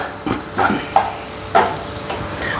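Spices stirred in a hot frying pan for potato sagu, a few scraping strokes over a steady soft sizzle, close and fairly loud.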